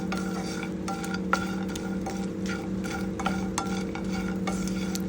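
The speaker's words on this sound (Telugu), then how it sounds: "వీటిని ఇలా కలబెట్టుకుంటూ వేయించుకోవాలి మీడియం ఫ్లేమ్ లోపల వేయించుకోవాలి" Dried small fish dry-roasted over a medium flame in a pan, stirred with a utensil that makes regular scraping strokes over a constant low sizzle, with no voices.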